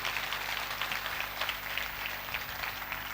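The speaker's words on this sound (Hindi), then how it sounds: "मुकद्दस मूसा की ज़ात के लिए जोरदार तालियां बजाएं।" A congregation at a sermon claps steadily and vigorously for Moses, a dense, continuous wash of applause throughout, heard from a little distance with no talking over it.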